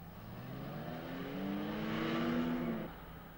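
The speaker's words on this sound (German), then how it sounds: "Es gelingt also, mit ABS ein plötzlich auftauchendes Hindernis vollbremsend zu umfahren." A 1970s Daimler-Benz car brakes hard with ABS while swerving around an obstacle, a steady engine and tyre drone that rises and falls, with a faint squealing tone in the middle.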